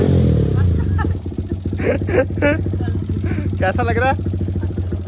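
A motorcycle fitted with a modified aftermarket exhaust idles nearby with a steady, deep, pulsing rumble throughout, while people talk over it.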